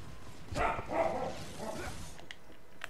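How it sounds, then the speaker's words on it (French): A dog barks indoors during a home game session, a few rough yaps close to the microphone over faint room noise. "Le chien qui gueule, il me fallait ça."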